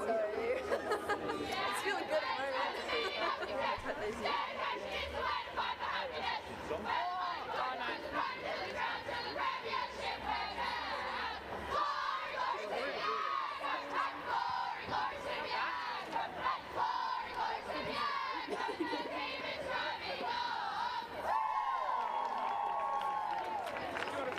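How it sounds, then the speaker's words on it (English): Crowd at a women's Australian football match (WAFLW, Subiaco v East Fremantle) chattering and shouting continuously, a dense, loud wash of voices and cheers with occasional clapping throughout. "Still hear the crowd chattering away in the FX mic."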